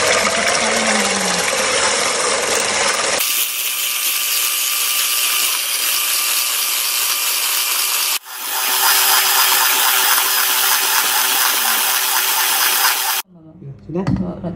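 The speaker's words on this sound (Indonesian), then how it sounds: "Mixer hingga mengembang." Electric hand mixer beating eggs for a rolled layer cake cooked in a non-stick pan, a steady loud whirring drone that runs throughout, briefly cutting out midway, with speech underneath.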